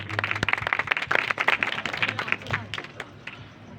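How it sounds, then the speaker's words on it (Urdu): A congregation at a healing prayer meeting claps, a lively run of hand claps with a low hum beneath that thins out and fades toward the end. "آپ کی زوردار تالیوں میں"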